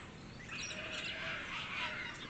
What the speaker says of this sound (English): these little green parrots are always here this time of year